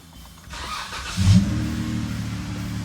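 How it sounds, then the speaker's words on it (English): A Jeep JK with the 3.6L V6 Pentastar engine cranks briefly, catches with a sharp rise in loudness, then settles into a steady, close idle hum. "then we're gonna start the Jeep"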